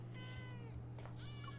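A cat meows in the video game Love and Deepspace, two or three short rising and falling mews over a low steady background hum, fairly close and clear.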